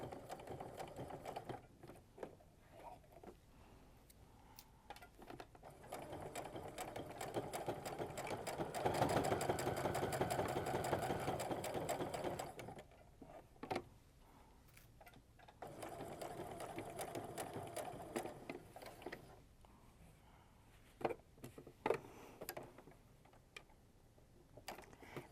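A domestic sewing machine stitching fabric pieces for a kaleidoscope quilt block, running in several bursts of rapid mechanical whirring and ticking with short pauses between seams, close and fairly loud, with no talking.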